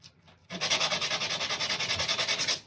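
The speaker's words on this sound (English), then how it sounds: "I'm just getting a little disc of sandpaper," A small sandpaper disc rubs quickly over a turned resin piece, making a close, scratchy swishing in rapid, even back-and-forth strokes that start abruptly after a brief quiet moment and continue steadily.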